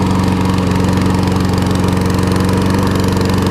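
An older Murray lawn mower's small Tecumseh engine idling loudly and steadily nearby, with a fast, even putter and no other sounds.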